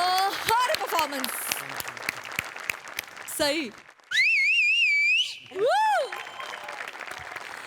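Audience claps on a comedy stage show, with a burst of clapping at the start followed by whistles, tonal effects and loud cheering and talk over it.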